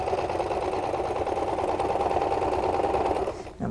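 A sewing machine runs steadily, stitching a seam in drapery fabric, with a fast even mechanical whir that continues at close range for several seconds before stopping abruptly near the end.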